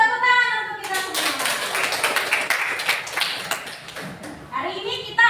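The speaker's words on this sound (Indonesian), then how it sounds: "Tepuk tangan untuk kita semua." A classroom of students breaks into a burst of hand-clapping applause lasting several seconds, with a teacher's voice speaking just before and after it.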